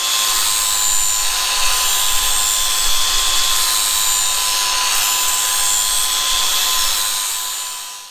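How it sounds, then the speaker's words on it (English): An angle grinder with a flap disc grinds back a weld on a Triumph Tiger 1200 XCA motorcycle exhaust baffle, a loud continuous high-pitched whirring rasp that holds steady for several seconds before winding down at the end. "I'm going to use what's called a flap disc on a grinder."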